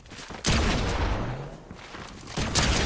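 Gunfire in a Fortnite match heard as a dense burst of shots and booms, with sharp onsets near the start and end and a rolling clatter between, moderately loud and without talk.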